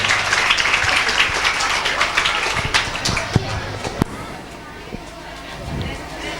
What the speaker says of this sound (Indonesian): kita beri tepuk tangan dulu sebelum ini dimulai